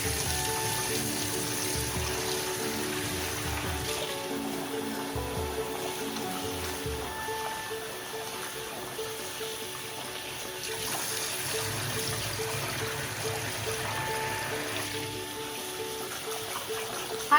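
Water runs over yellow lentils as they are rinsed for dhal, a continuous close trickle and splash from a tap with slight swells in flow throughout.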